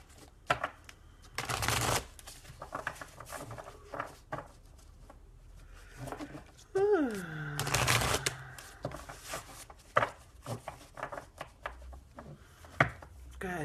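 Oracle cards are shuffled in repeated riffling bursts, close and crisp, with scattered soft taps and handling noises between them.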